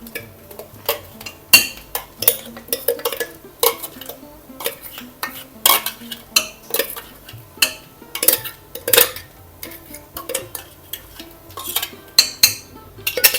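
A spoon stirs ground coconut into a pumpkin and cowpea curry in a pan, making repeated scraping clinks against the metal in an uneven rhythm, close and fairly loud.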